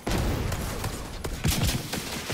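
Rapid turret gunfire rattles in a video game, a dense string of loud shots in irregular bursts with no speech.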